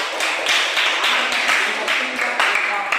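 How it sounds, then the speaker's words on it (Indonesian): Classroom applause for a student group, a short burst of brisk hand clapping from several people, fairly close and uneven in rhythm with no speech. "tepuk tangan untuk kelompok C"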